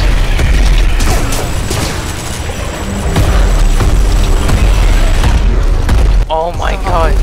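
Heavy gunfire and explosions in Gears of War Ultimate Edition make a loud, dense clatter with booms throughout, while people shout over the din.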